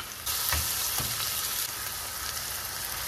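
Steady sizzling of onion and red pepper frying in a hot pan, loud and close, with a couple of soft stirring scrapes early on.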